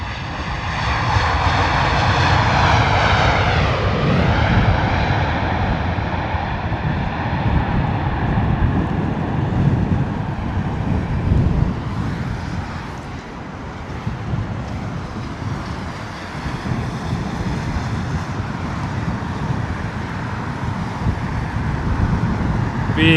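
A British Airways Boeing 787 Dreamliner lands fast at Heathrow in wet, windy weather, a loud sustained jet roar with a falling whine that eases into lower rumbling rollout noise, with no talking.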